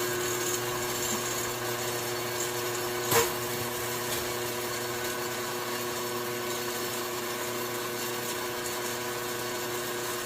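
An inverter-powered machine runs steadily while polishing brass flintlock parts, a constant humming whine with tonal harmonics and one brief sharp tick partway through.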